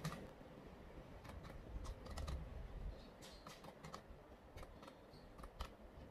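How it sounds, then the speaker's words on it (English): Fingers type on a computer keyboard entering bank account details, with a steady, moderately quiet patter of key clicks, a few sharper taps standing out, over faint room noise. "Okay, and then we type."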